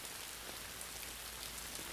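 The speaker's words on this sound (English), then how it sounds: "you feel the cool, refreshing tingles of rain on your nose and cheeks" Steady rain falls on a surface as a soft, even hiss with scattered droplet patters, faint and continuous with no voices.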